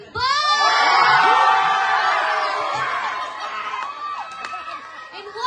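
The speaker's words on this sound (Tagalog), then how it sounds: "Sigaw mga team boy!" At a gender reveal gathering, children and adults shout and cheer together in a loud, sustained burst that slowly tapers into scattered calls and laughter.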